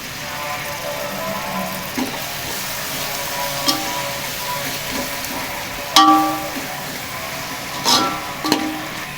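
Masala sautéing in a pan for chicken biryani, a steady low sizzle with a few sharper clinks and scrapes of a spoon against the pan, close and without talk.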